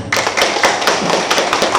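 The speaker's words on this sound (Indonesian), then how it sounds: "Tepuk tangan." A village election gathering claps on cue, producing a close, loud run of sharp hand claps in a fairly quick rhythm that continues throughout.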